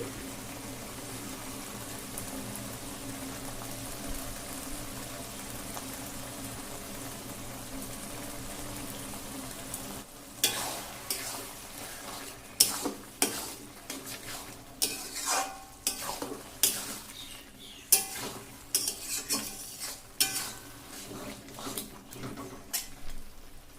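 Taro stems fry in a pan with a roasted paste of cumin, coriander, bay leaf and cinnamon, a steady sizzle at first, then repeated stirring scrapes and clatters over the bubbling fry.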